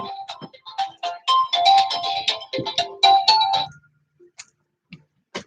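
A phone ringtone plays loudly and close, a bright melodic run of tones for nearly four seconds before cutting off, followed by a couple of faint short blips.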